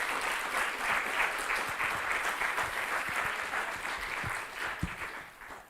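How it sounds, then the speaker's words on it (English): Steady audience applause at an esports conference panel honoring a university student team, a moderately distant, even wash of clapping lasting several seconds with a few sharper individual claps near the end. "Can you please give them a round of applause?"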